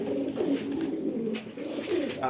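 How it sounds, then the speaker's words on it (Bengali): A pigeon coos nearby in two soft, rolling calls, low and throaty, against a quiet background. "এটা হচ্ছে আমার বাসার সবচেয়ে প্রধান কবুতর"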